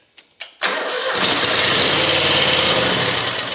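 A Hustler mower engine with sheared or missing mounting bolts cranks with two short clicks, then catches and runs loud and steady, a rough rattling roar that stays up close and continuous.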